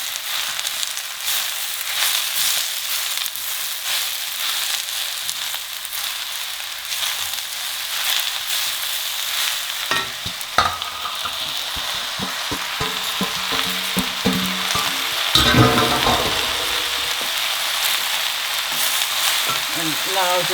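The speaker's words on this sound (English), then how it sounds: "Now we need to fry this palak in the mushroom for at least 3 to 4 minutes on a medium flame." Palak and mushrooms fry in a pan over a medium gas flame, giving a continuous close sizzle while a utensil scrapes and stirs through them, with a louder burst of stirring partway through and no talking.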